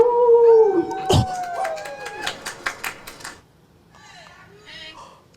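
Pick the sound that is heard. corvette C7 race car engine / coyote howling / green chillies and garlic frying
coyote howling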